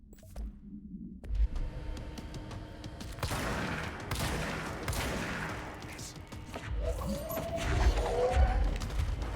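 Shotgun firing in the video game Control, repeated sharp blasts amid chaotic crashing and rumbling combat noise, loud and close, with brief talking.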